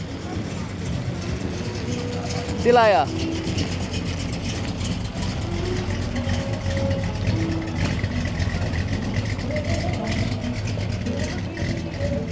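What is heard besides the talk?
1969 car driving out of a car meet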